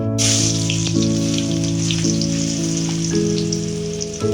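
Finely chopped garlic hits very hot oil, making a loud, dense, continuous crackling sizzle that stays close and even throughout, with steady tonal hum in the background and no speech.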